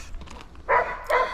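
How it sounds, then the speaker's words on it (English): A dog gives two short barks at a distance, faint against a quiet outdoor background on a hill walk. "if the dog will stop barking"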